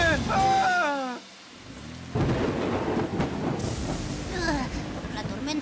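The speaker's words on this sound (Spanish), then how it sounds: "La tormenta ya está empezando de verdad." Thunder rumbles through a cartoon rainstorm, heavy rain hissing steadily throughout; a character's voice cries out briefly at the start before a deep roll of thunder and a fresh burst of downpour.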